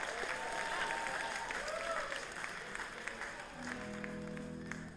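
Audience applause at a live concert in Thalia Hall for the lighting technician, a steady wash of clapping with sustained tones ringing through it and a held chord entering near the end.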